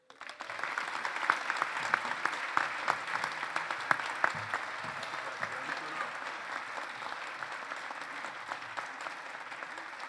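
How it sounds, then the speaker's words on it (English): An audience at a paramedics awards celebration applauds an Employee of the Year winner, a dense, sustained wash of clapping lasting about ten seconds that slowly tapers, with a few sharper claps early on. "one more round of applause for all of our winners here today"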